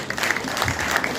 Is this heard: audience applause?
yes